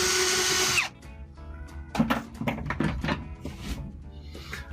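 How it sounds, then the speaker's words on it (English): A power drill backs a screw out of the interior trim of a boat pilothouse. A loud, steady motor whine runs for almost a second, then stops, followed by a scatter of close clattering handling noises. "I'm going to remove this screw now that I've got all the other"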